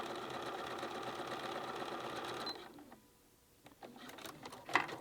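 A sewing machine fitted with a zipper foot runs in a steady, fast whirring stitch for about two and a half seconds, then stops, leaving quiet handling clicks and light fabric rustle nearby.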